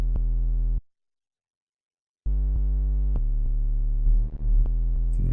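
A steady triangle-wave tone from an analog synthesizer, with rich harmonics, drones, cuts out for over a second, then resumes with a few small pitch shifts and a wobbling stretch near the end.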